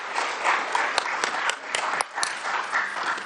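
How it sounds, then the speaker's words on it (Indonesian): Applause for a minister at a parliamentary hearing room, a short wave of many hands clapping with a few sharper close claps standing out, moderate and steady before tapering. "Boleh kita beri tepuk tangan kepada Pak Menteri."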